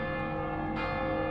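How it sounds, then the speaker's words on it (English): Church bells of Viviers ring in the distance as a sustained, layered metallic tone that holds steady and alone throughout. "In the distance, we can hear the bells of Viviers"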